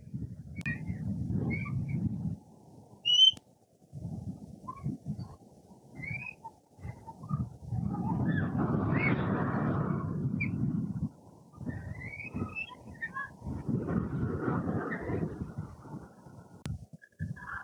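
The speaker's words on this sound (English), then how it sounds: "wind so strong I can't hear myself think" Strong wind buffets a microphone on the England Coast Path near Cromer, a deep rumbling roar that comes in long gusts with short lulls, and faint bird whistles sound over it.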